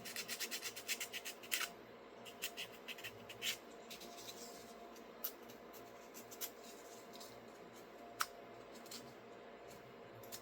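Sandpaper rubs fuzz off a cut polymer Sig Sauer P320 AXG grip module, with quick rapid scratchy strokes at first, then sparser faint rasps and ticks, quiet and close.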